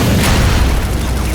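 A smoke grenade goes off in Batman: Arkham City, a loud, sustained dull boom with broadband hissing rumble lasting throughout, no voices over it.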